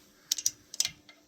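A torque wrench clicking while tightening the bolts on a Honda BF25/30 outboard motor under restoration, a few sharp, close metallic clicks in two quick clusters followed by a fainter final tick.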